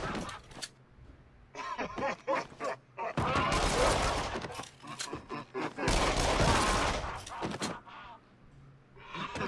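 Gunshots in the shooter game Until Dawn: Rush of Blood, two loud dense bursts of fire in quick succession mixed with game effects, while someone talks and laughs around them.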